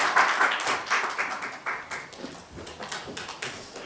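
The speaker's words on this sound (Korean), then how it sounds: "여러분 큰 박수로 환영해 주시기 바랍니다." A small audience at a Korean election-advocacy launch event claps to welcome a professor to the podium, with uneven, moderately close hand claps that come in a rather sparse, irregular patter.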